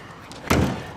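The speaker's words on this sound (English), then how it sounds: "On the strut assisted slam latch baggage doors" The strut-assisted slam-latch baggage door on a 2021 Grand Design Solitude 346FLS fifth-wheel RV shuts with a single loud, close thud and latch clack, then a brief fading rattle.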